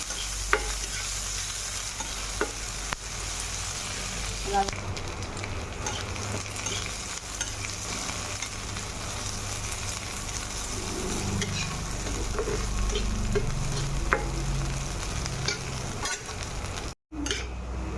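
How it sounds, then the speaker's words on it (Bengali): Chopped onions frying in hot oil while cooking a potato and green banana dish, a constant close sizzle with occasional ladle clicks, growing slightly fuller toward the end before a brief dropout. "কেটে রাখা পেঁয়াজ ওই তেলে দিয়ে দেবো। দেখো আমি পেঁয়াজটা দিয়ে দিচ্ছি।"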